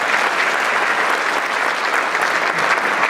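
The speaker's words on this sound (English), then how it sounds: "Give him a round of applause" Steady, dense applause from an audience at a candidate forum, loud and sustained without a break throughout.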